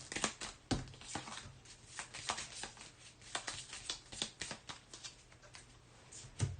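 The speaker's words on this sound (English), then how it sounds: "Shuffle the hit location deck." Cards from a hit location deck in a tabletop board game are shuffled by hand, a quiet close run of rapid riffles and soft flicks in uneven bursts, with no talking.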